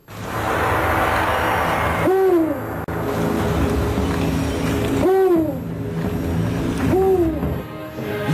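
An owl, among birds being sold openly in a market in Delhi, gives three loud, close hoots spaced a few seconds apart over steady background noise.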